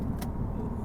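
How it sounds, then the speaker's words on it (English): Inside a moving car, a steady low road-and-engine rumble fills this brief stretch at an even level, with no voices. "audio is a whole nother issue because I'm driving in my car"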